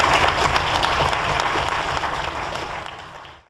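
Audience applause at a university debate on leaving the EU, a dense crowd clapping steadily and loudly before tapering off at the end.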